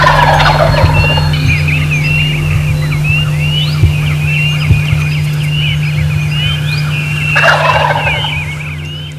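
A wild turkey gobbles loudly and close in an open field during a spring hunt, a few rattling gobble bursts over a steady low hum, no talk.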